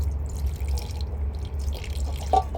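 Boiled fermented fish sauce (pla ra) pours into a dish for an old-style frog dip, a soft trickle and drip over a steady low hum, close by with no talking.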